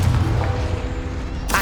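A Confringo fire-blast spell in Hogwarts Legacy, a single loud booming burst that fills the short moment before fading out.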